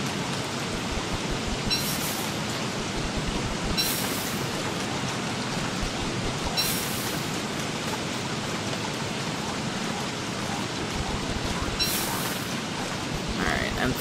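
Rain falls in the survival video game Don't Starve as a continuous, even wash of hiss, with a few brief brighter swells spaced through the stretch.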